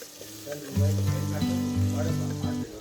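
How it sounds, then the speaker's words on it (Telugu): Onions frying in oil with ginger garlic paste, a steady close sizzle with stirring scrapes, while a sustained musical tone plays over the frying. "మనం ఫ్రెష్గా గ్రైండ్ చేసుకున్న జింజర్ అండ్ గార్లిక్ పేస్ట్ కూడా ఒక స్పూన్ వేసేసుకొని ఆ పచ్చివాసన అంతా కూడా పోయినంత వరకు ఆయిల్లో మనం మంచిగా ఫ్రై చేసుకోవాలి"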